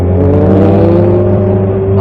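Loud, close engine revving steadily with a strong droning hum, continuous throughout without talk.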